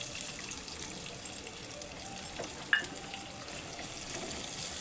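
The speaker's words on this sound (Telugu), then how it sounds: "నేనైతే ఒకటే ఆనియన్ కట్ చేసుకొని సన్నగా తరుముకొని వేసుకుందాం" Finely chopped onion fries in hot oil with lentils and cumin for a tempering for bitter gourd masala curry, giving a quiet, steady sizzle with a small clink partway through.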